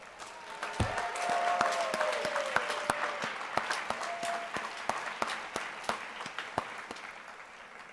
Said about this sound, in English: give themselves one more round of applause